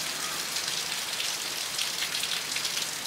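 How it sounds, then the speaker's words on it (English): Heavy morning rain pours steadily at a Bicol, Sorsogon home in the Philippines, a dense, even hiss of drops on surfaces holding loud and constant with no pauses. "This morning it's raining like crazy."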